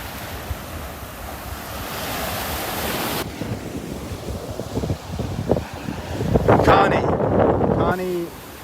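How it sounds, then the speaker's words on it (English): Wind blows across a beach in North Naples, Florida, on a morning walk, with ocean surf rolling underneath; gusts rise and fall in a steady roar, and a voice speaks briefly near the end. "Walking right into that wind now."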